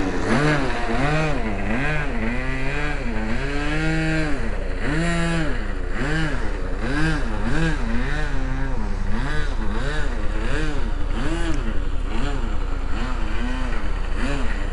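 Model F-14 Tomcat plane with an unreliable engine taxiing, its small engine running loud and steady with rising and falling revs throughout.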